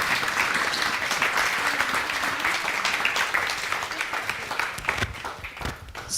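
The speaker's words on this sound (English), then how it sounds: "Let's give them a warm round of applause." A conference audience claps steadily, a dense even patter that thins a little toward the end.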